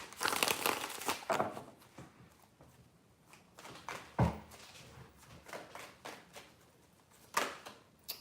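A deck of tarot cards is shuffled by hand during a reading, giving crisp papery riffles and flutters in irregular bursts with a few louder slaps, close and fairly quiet.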